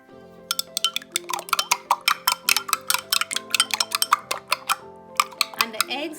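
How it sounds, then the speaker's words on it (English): Two eggs with honey are whisked in a bowl, giving quick ringing taps of the whisk against the bowl in a fairly steady rhythm over a soft tonal background. "And then we're gonna nicely whisk up the 2 eggs."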